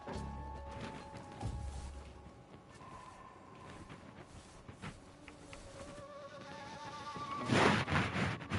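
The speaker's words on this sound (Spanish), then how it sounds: "Puedo usar el panal de abejas." A swarm of bees from a beehive buzzes in Metal Gear Solid 3, a thin whining drone layered with game effects and tones, rising into a louder burst of noise near the end.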